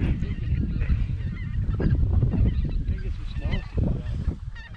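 Greater white-fronted geese honk loudly and repeatedly during a goose hunt, overlapping calls from a flock close by, with voices mixed in.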